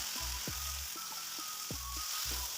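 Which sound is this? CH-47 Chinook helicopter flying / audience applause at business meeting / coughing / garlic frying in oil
garlic frying in oil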